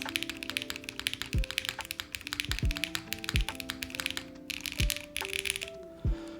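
Keystrokes clatter on a custom mechanical keyboard in quick, uneven bursts of sharp, close taps, with short pauses between runs and a few heavier thocks standing out.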